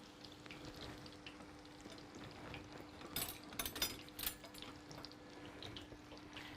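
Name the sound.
chicken steaks frying in oil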